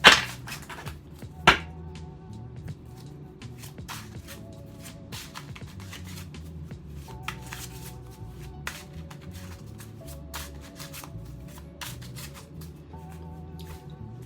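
A tarot card deck shuffled by hand, with soft, repeated riffling and brushing of cards at close range, a couple of sharper taps near the start, over a low background hum.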